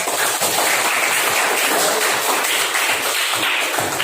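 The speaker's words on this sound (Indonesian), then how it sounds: "tepuk tangan dulu untuk" A classroom of students claps hands in applause, a dense, loud, steady patter of many hands that continues without a break.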